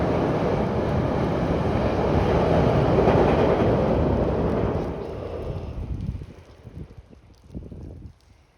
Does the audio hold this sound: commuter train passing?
yes